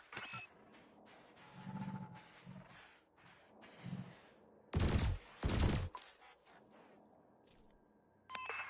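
Ship weapons in the Elite Dangerous space game fire at floating canisters: scattered clicks and beeps give way to two loud, sharp blasts close together, then more faint electronic tones.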